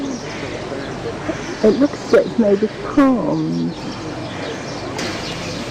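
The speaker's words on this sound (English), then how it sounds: "Oh, the noises of birds, big black birds." Calls of large black birds in a tree along the Nile, a few brief cries rising under a person's nearby talk against steady outdoor background noise.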